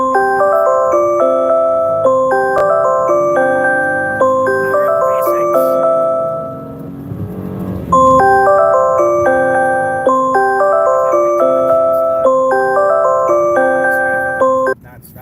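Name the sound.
repeated alarm sound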